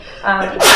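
A single person's sneeze bursts out loud and close at the end of a short moment, preceded by a brief intake of breath during an indoor talk or meeting.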